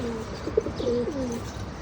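Domestic pigeons give a short run of soft, low cooing calls close by, with faint background hum and no talking.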